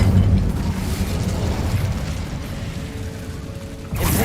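An Incendio fire spell is cast in Hogwarts Legacy: a dense, roaring whoosh of flame with crackling bursts, loud and sustained, ending in a sharp burst.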